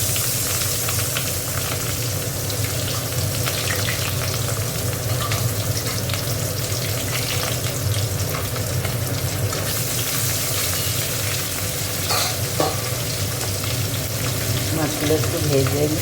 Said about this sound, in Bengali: মাছগুলো একটু ভেজে এই লেজা দুটো ভাজা হয়ে গেছে, তুলে নিচ্ছি।